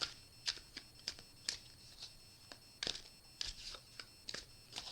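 Crisp, repeated riffling of tarot cards being shuffled, in quick bursts with brief pauses between, close by and fairly quiet, with no talking.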